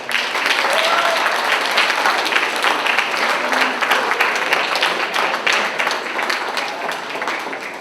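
A school audience at a Geneva High School awards breakfast gives the parents a round of applause, with dense, sustained clapping filling the room that fades slightly toward the end.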